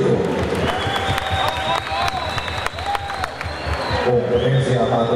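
A crowd applauds the judges at a horse competition for mares in trot and gallop events in Pereira, with broad clapping and some cheering under an announcer's amplified voice.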